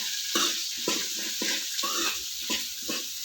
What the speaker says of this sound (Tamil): வெங்காயம், 4 பச்சை மிளகாய் நல்லா வதக்கிட்டு